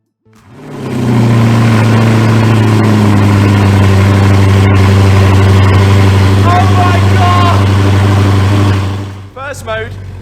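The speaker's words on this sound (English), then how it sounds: "So here's just a quick clip for you guys of the Army Tricks exhaust system on Matt's R8" An Audi R8 with an aftermarket Armytrix exhaust starts and idles loudly up close with a deep, throaty exhaust rumble, then a few sharp revs near the end.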